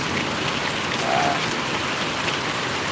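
Heavy rain falls in Parvadi village in Gariyadhar taluka, a dense, steady hiss of drops on surfaces that stays loud and unbroken throughout with no voices.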